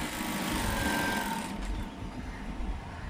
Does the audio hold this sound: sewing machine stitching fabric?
yes